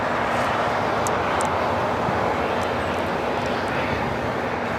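Boeing 737-800 jet operated by Sun Country Airlines for Prime Air at Los Angeles International Airport, a loud sustained engine roar that holds steady throughout with no talk.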